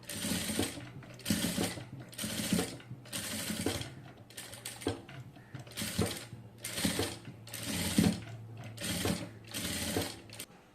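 A sewing machine stitches a sleeve in steady, rhythmic bursts of rapid mechanical clatter, each run separated by short pauses, close and fairly loud throughout.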